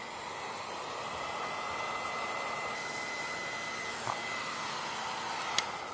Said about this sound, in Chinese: 那我们开始用电热吹风机让他感受看看